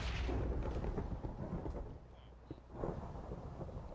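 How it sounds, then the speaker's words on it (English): Thunder from a thunderstorm rolls as a loud, deep rumble that fades, then swells again briefly before settling into a low, continuous roar. "I'm not going to stay out here because I don't care for thunderstorms. I don't want to be struck by lightning."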